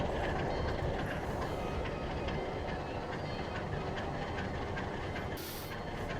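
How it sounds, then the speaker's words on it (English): A simulated train in Trainz 2022 pulls forward during yard shunting, a steady rumbling roll with hissing and faint rhythmic clicks, heard alone at moderate level. "our train's going to pull forward"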